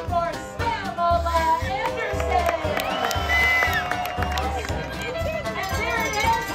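A crowd cheers and shouts at a pig race at the Alaska State Fair, a busy mix of voices over a loud announcer calling the racers, with steady rhythmic thumps underneath.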